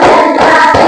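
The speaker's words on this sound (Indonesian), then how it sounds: "Kita bersama-sama tepuk kembali ya." A primary school class claps hands together in a counted rhythm, loud and close, a short burst of clapping with no talk.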